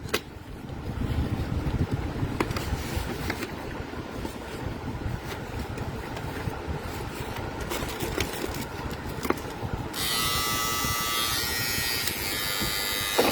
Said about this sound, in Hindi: उसके बाद ये निकला जी हमारे पास शेवर